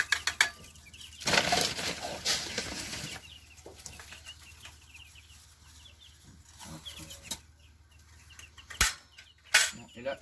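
Chickens at feeding time on a farm, a flock of about 40, with scattered clucks and rustling, a burst of louder wing flapping and scratching early on, then sparse short calls and a couple of sharp knocks near the end.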